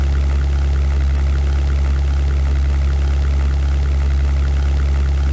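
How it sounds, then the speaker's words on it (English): Steady, droning engine of a turbocharged P-51B Mustang fighter in the flight game European Air War, a constant loud low hum with no change in pitch or level. "my engine will be still like more powerful than theirs, simply because of the turbocharger"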